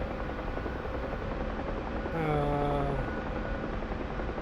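Steady UH-1H Huey helicopter drone in a flight simulator during a sling-load flight, a continuous rotor and turbine hum with a brief rising tonal whine layered in partway through, moderately loud with no talking.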